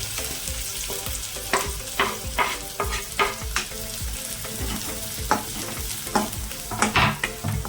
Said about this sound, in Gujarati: આપણે હવે એમાં ડુંગળી નાખી દેવાની છે ઝીણી ઝીણી કાપેલી છે